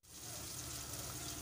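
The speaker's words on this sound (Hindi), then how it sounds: "दो खाने के चमचे अदरक लहसुन के डाल दिए हैं, और हम इसको अच्छी तरह से भून लेंगे" Ginger-garlic paste sizzles with onions in a hot pan, making a steady, even frying hiss. The sound is quiet and continuous, with no talking.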